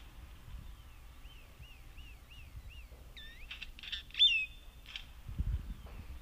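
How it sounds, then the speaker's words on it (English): Quiet bird calls: a series of rising, squeaky whistles, then sharper clicking, metallic notes and a louder squeal, over faint low rumble. "one of the channels would have the regular sound of the grackle playing"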